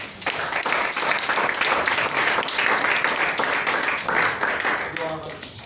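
Church congregation applauding and cheering: loud, sustained crowd clapping and shouts that fill the room, tapering off at the end.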